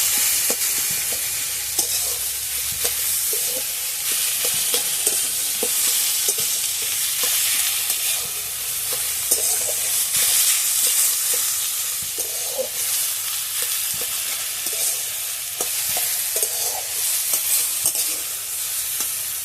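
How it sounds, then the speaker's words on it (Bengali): A spatula stirs seeded bananas in a hot pan for a curry, scraping steadily and rhythmically over a constant loud sizzle and hiss, close and without talk. "আমি বিচি কলাগুলোকে একটু ঘেঁটে দিচ্ছি খুন্তি দিয়ে"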